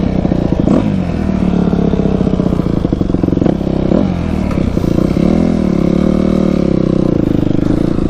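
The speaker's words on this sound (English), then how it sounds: "So this is basically the first ride on the bike." A Yamaha YZ 250F dirt bike on its first ride, its engine loud and close the whole time, revving up and down in repeated surges with some clatter and scraping.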